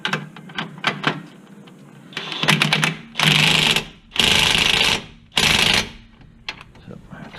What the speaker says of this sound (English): Get that bottom knuckle bolt, torque wrench.